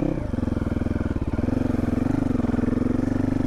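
A 2022 GPX Moto FSE450R motorcycle idles close by with a steady, even thumping beat that holds after a brief clunk near the start as it drops into gear.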